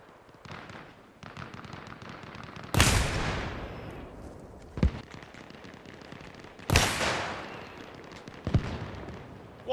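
Machine gun fire in a military shooter game, loud sharp bursts standing out from a steady background of distant crackling gunfire, with several heavy cracks spaced a few seconds apart.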